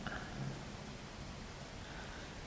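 Steady rain falls in a dense, even hiss on surfaces outdoors, with a faint low rumble of thunder underneath, constant and close throughout.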